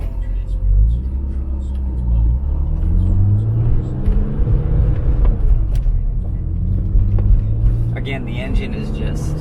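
A BMW M Roadster with the S54 engine and 5-speed gearbox runs at a smooth, steady rumble while driving, its low engine note rising and falling slightly as someone talks over it throughout.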